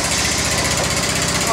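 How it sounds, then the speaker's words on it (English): A quad bike engine being rebuilt cranks over close by, a loud, rapid, rhythmic chugging that continues evenly throughout without catching. "Got ignition. Funny, she's cranking."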